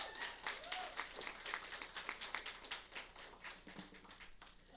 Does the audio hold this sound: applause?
yes